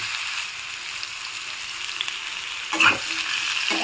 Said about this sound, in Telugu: ఆయిల్ కొంచెం వేడైన తర్వాత మనం కట్ చేసి పెట్టుకున్న సొరకాయ ముక్కలు వేసుకుందాము.